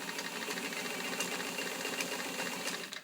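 A vintage steel Kenmore sewing machine, model 158.902, stitches garment leather in a rapid, even mechanical whir with a faint rhythmic chatter, quiet and close, with no voices.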